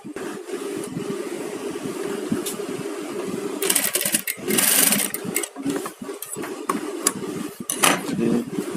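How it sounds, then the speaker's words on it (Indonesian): A sewing machine runs steadily stitching fabric for a garment, a close, continuous mechanical whir with a few brief pauses and rustling handling noises in the middle and near the end. "Kita jahit saja."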